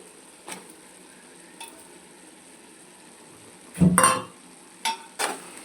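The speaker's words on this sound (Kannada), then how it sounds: "ಇದನ್ನು ಚೆನ್ನಾಗಿ ಫ್ರೈ ಮಾಡ್ಕೊಂಡೆ ಇದೊಂದು ಐದು ನಿಮಿಷ ಚೆನ್ನಾಗಿ ಫ್ರೈ ಮಾಡ್ಕೋಬೇಕು" Mutton frying with ginger garlic paste for mutton pulao, a faint sizzle broken by a few loud bursts of stirring and scraping in the pan, with no talk.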